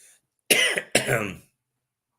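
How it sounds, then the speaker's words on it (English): Two sharp, raspy coughs in quick succession, close and loud, followed by silence. "Sorry for the listeners for me coughing, but my throat's killing me."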